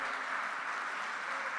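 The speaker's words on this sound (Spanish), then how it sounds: "Fuerte ese aplauso para Jesús" A congregation at a Christian worship service applauds together, a steady, dense wash of clapping that holds evenly for the whole short stretch with no pauses.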